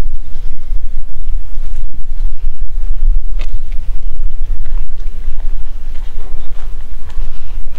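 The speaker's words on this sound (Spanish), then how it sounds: "pero hace bastante brisa." Breeze sweeping across the beach at Playa Combate in Cabo Rojo, Puerto Rico, heard as a steady, loud low rumble of wind buffeting the microphone, with no talking.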